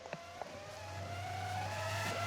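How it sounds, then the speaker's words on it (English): Race cars thunder side by side through the final chicane of a Turkish V-Prix round, a steady, loud engine drone building as they pass, with a couple of brief tyre chirps at the start. "Side by side through the final chicane, Halverson and Garcia going for it"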